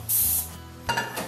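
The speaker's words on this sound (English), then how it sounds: "Then you just spray it off." Water sprays onto a cast iron skillet to rinse it, in two hissing bursts, the first longer and brighter, the second short and splashier, close and fairly loud with no talk.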